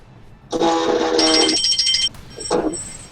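A phone rings nearby with a loud electronic ringtone, a sustained warbling tone that shifts pitch midway, pauses, then sounds again briefly over a quiet background.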